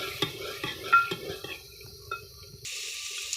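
Onion, garlic and ginger stirred into hot oil in a pot over a hearth fire for Punjabi mustard greens, with spoon scrapes and knocks against the metal, then a steady frying sizzle near the end.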